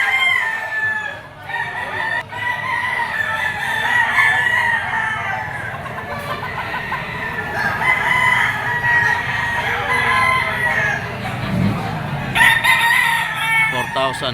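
A white-legged banderado gamecock of Pumpkin Boston bloodline crows repeatedly at close range, with clucking fowl and other rooster calls in a busy farmyard setting behind it.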